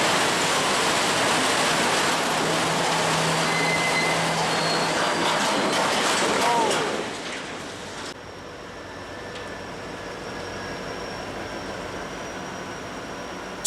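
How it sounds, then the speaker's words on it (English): Train derailing in Missouri: a loud, sustained roar of grinding, rushing noise from the wreck, with a sharp drop partway through to a quieter steady rumble and a faint high whine. "Check out this footage of a train derailing for unknown reasons in Missouri."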